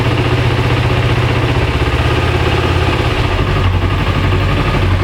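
A carbureted red 2007 Kawasaki EX250R Ninja motorcycle idles steadily up close, a loud, continuous engine rumble with no talking.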